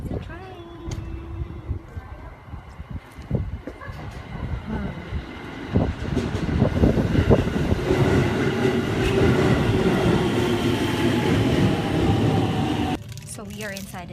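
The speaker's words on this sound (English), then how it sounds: "Here comes the train." A train pulls into an outdoor station on a sunny, windy day. A low rumble swells to a loud, sustained roar with wheel clatter and a faint squeal. Voices are heard briefly near the start.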